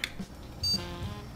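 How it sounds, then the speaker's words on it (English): One short, clear computer motherboard POST beep rings out over a low hum, brief and fairly close. "Beep, another beep, two beeps, but no display output."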